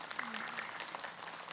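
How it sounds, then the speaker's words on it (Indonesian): A studio audience on an Islamic religious talk show claps steadily in a dense, even wash of applause throughout, with faint voices mixed underneath. "Tepuk tangan dulu dong."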